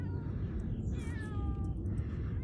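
A cat meows on a mountain trail on Gayasan, the call rising and falling with clear harmonics over steady outdoor background noise, fairly close and unaccompanied by talk.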